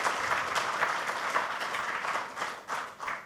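Audience applause at an entrepreneurship talk, a dense, even clapping from a seated crowd that holds steady for a few seconds before tapering with a few last claps.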